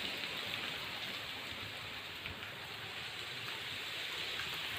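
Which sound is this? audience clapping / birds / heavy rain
heavy rain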